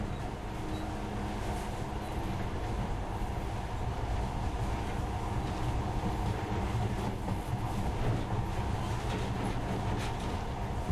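A steady, low mechanical rumble with faint rattling from a monorail gliding along its track in the game Metro Last Light, continuous and moderately distant throughout.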